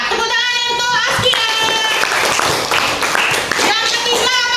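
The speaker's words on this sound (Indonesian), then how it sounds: "Ya, tepuk tangan untuk ASCII." A classroom of students claps together in a geography lesson, a dense burst of hand claps mixed with voices and sustained tones from a nearby source.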